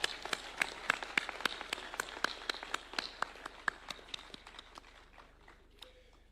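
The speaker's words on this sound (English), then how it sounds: "Let's clap for AGF." Clapping at a university installation ceremony, a few distinct sharp claps in an uneven rhythm that thin out and fade over the final seconds, fairly faint and roomy.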